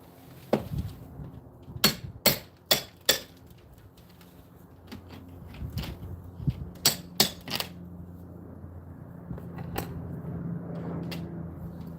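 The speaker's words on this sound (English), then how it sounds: "I think that's the first time I've had to use my hammer." Hammer blows on wood while building a larger saw horse for scaffolding: a few sharp strikes in quick succession early on, then another burst of three or four hits, with quieter knocks and shuffling between.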